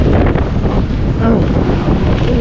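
Strong wind buffets the microphone along a seaside boulevard during Super Typhoon Uwan, a loud continuous roar with heavy waves churning beneath it and no clear talk.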